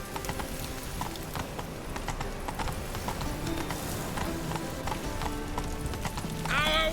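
In The Witcher 3, the horse Roach gallops with rapid, rhythmic hoofbeats up close over a continuous bed of game sound, and a neigh rises briefly at the end.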